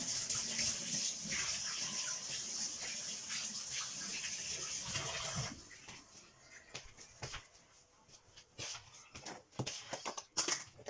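Running water from a kitchen tap splashes steadily while hands are washed during baking, a continuous rushing flow for about five seconds that then cuts off, leaving scattered drips and small clatters.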